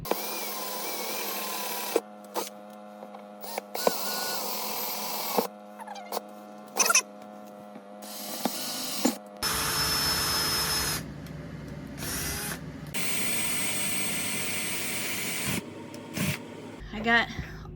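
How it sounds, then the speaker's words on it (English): A power drill bores holes in a soft, rotted RV floor, whining up and cutting out again in repeated loud, close bursts, with brief gaps and a steady motor hum throughout. "So now we're going to get these drilled."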